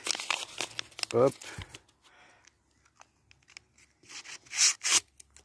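Paper wrapping around the supplied blades for a Parkside reciprocating saw crinkles and rustles in short bursts as the blades are handled, with a louder rustle near the end and someone talking in between.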